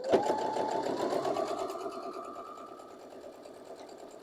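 A sewing machine stitches pieces of a Birds in Air quilt block in one steady, continuous whirring run that starts with a sharp kick and holds close and loud, with no voices.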